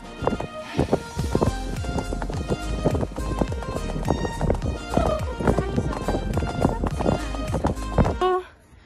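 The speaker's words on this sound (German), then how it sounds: "Mein Pferd galoppiert schon." Horse hooves pound in a fast, steady galloping rhythm, close and loud, with thuds and rattling tack throughout before fading abruptly.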